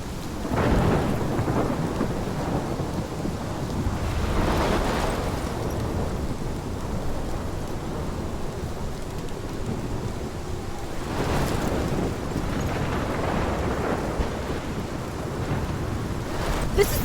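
Thunderstorm with steady heavy rain in the video game Life is Strange, with rolling rumbles of thunder swelling several times over the constant downpour, no talk.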